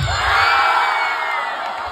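A crowd shouts and whoops for a performer at a lively event in Bulacan, a dense roar of voices that holds steady and loud across the moment.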